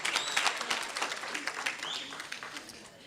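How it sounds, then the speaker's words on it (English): Wedding guests applaud at a reception toast, a fairly faint, scattered patter of clapping that thins out over a few seconds while a voice or two murmurs beneath. "Clap him up, guys."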